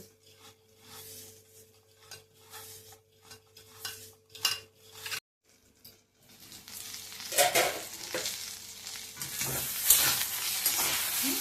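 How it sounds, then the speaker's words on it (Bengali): Eggplant frying in a pan for a neem-leaf dish, giving a steady sizzle with scraping and stirring strokes that grows louder and denser toward the end; no one talks. "বেগুন দিয়ে ভাজা হয়ে যাচ্ছে।"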